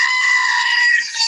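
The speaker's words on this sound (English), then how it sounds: "So they have now the screaming goat, and you have to get one" A screaming goat novelty toy gives one sustained, shrill, human-like bleating scream, loud and close, lasting over a second.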